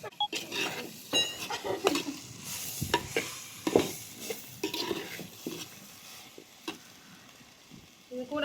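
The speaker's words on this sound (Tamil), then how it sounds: "வெங்காயம் நல்லா வதங்கிட்டு இருக்கு." Chopped onions, beans and carrots sizzling in a pan while a spoon stirs and scrapes them in irregular bursts, clinks of metal on the pan rising above a soft steady fry.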